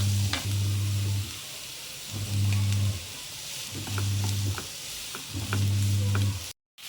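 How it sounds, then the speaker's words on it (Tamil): Onions sautéing with a little salt in a pan for village-style dried-fish thokku give a steady, close sizzle with light stirring, while a loud low droning hum keeps rising and falling in regular bursts underneath. "வெங்காயம் வந்து நல்லா வதங்கி வரட்டும்"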